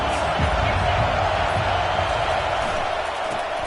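Roaring crowd noise fills a Nebraska college football stadium, a broad steady wash of voices at loud level, with announcer speech running over it.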